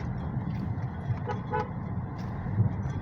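A Toyota Vios fourth-generation car horn toots briefly, twice in quick succession, close and moderately loud over a steady rough engine idle with background noise.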